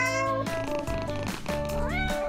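A cartoon cat meows in a few drawn-out, pitch-sliding calls over a busy musical backdrop, loud and close, with no talking.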